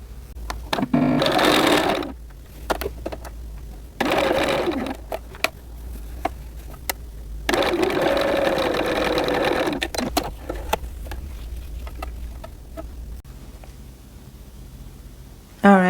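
Sewing machine basting the seam of a doll dress, running in several short bursts of steady whirring stitching separated by pauses with handling sounds and occasional talk.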